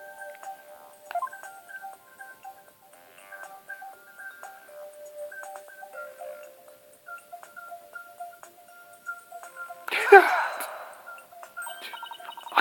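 Cell phone dialing tones from the game Phoenix Wright: Ace Attorney – Spirit of Justice, a run of short pitched beeps ticking along steadily, followed by a brief burst of brighter noise near the end.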